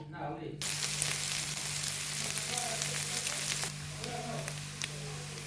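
Small shrimp fry in a pan with dried and green chillies, a bright steady sizzle that starts suddenly after a quiet moment and runs over a low constant hum.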